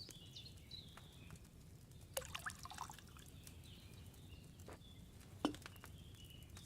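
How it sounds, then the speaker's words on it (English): Liquid poured into a cauldron while brewing in Kingdom Come: Deliverance 2: faint, brief splashing and dripping over a low steady background, with a couple of slightly louder trickles. "First, you have to pour the right base into the cauldron."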